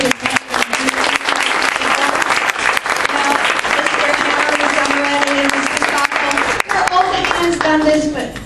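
Sustained applause from an audience at a school board candidate forum, many hands clapping steadily throughout, with voices and a few speaking sounds mixed in near the end.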